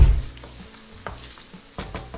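Canned button mushrooms tumble into a hot pan of sizzling onions, garlic and olive oil, a short thump followed by steady frying hiss and a few soft stirring scrapes, close and clear with no voices.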